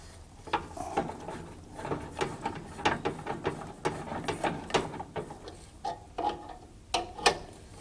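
A ratchet tightening a part during a suspension overhaul, giving irregular bursts of sharp clicking at close range with short pauses between strokes.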